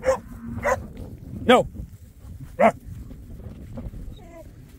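A dog in a sheep pen barks at cows: four sharp, loud barks spaced about a second apart, with a voice shouting briefly between them.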